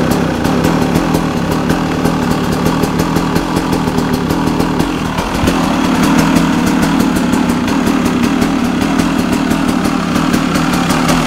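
A 2001 KTM 200 EXC two-stroke enduro dirt bike idles close up, a loud, steady, rapid buzzing putter that holds evenly for the whole stretch with no voices.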